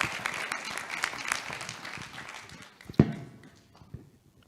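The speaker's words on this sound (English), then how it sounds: "Another round of applause for some insightful words by Desiree" Audience applause after a speaker at a 2021 cultural and creative industries networking event, a fairly dense burst of clapping that thins out and fades to a few scattered claps.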